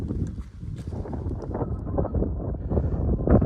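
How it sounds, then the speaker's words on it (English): Wind gusting across open moorland buffets the microphone with a low, rumbling roar that stays steady and loud for a few seconds. "At least it's nice and cool in this wind."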